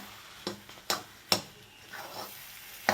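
Ghee being stirred into mango sheera in a pan: four or five sharp scraping strokes spaced irregularly, with a faint sizzle between them, close and fairly quiet, no voices.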